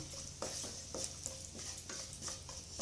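Whole spices such as cloves, cardamom and star anise fry in a small pan, a steady soft sizzle with intermittent scraping knocks of stirring, close and moderate in level.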